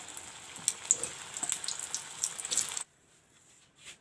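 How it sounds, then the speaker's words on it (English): Kofta balls fry in hot oil with a close, bubbling sizzle that cuts off sharply near the end, leaving a faint quiet tail. "This way I will do the same process to fry the kofta balls."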